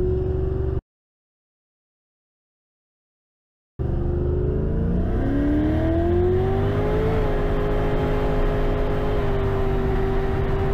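A supercharged Terminator Cobra cruises slowly through a back neighborhood at about 30 mph. After a short silence, a steady engine drone rises and shifts in pitch, close and continuous, with a brief spoken word at the start.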